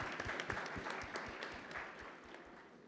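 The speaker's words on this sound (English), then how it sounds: "So a round of applause for them as well," An audience applauds panelists at the Zee Jaipur Literature Festival 2019: a steady patter of many hands clapping, fairly soft and distant, sustained for the whole stretch and slowly easing off.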